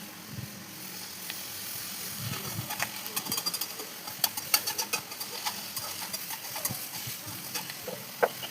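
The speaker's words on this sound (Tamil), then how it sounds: "வெங்காயம் பொன்னிறம் வரும் வரை கிண்டிக்கொண்டே இருக்கவும்." Onions fry in a pan while being stirred until golden, a soft continuous sizzle with scattered light scraping clicks from the spoon, growing busier toward the middle.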